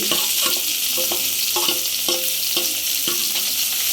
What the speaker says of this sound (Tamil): இஞ்சி பூண்டு பேஸ்ட் கொஞ்சோண்டு இதோடு சேர்த்து உப்பும் போட்டு வதக்கிக்கலாம்